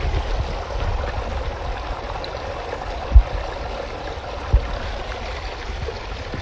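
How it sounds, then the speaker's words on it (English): A backyard water feature's small stream and little waterfalls flow steadily with a close, continuous splashing rush and trickle, broken by a couple of soft low thumps. "And you've got some nice little waterfalls in through here"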